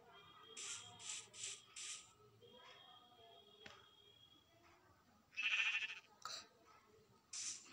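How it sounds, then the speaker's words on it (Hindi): A goat in a survival video game bleats in a quick run of four short, nasal cries, then calls again a few more times after a pause, each bleat clear and fairly close against a quiet background. "बकरी की आवाज आई है"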